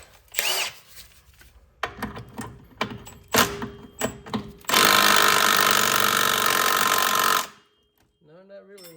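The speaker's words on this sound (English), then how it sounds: "Let me see if that impact will take it off now." An impact wrench works on a bolt at the rear knuckle of a 2011 Ford Explorer: several short rattling taps and clanks, then a loud sustained hammering burst of about three seconds, and a voice follows.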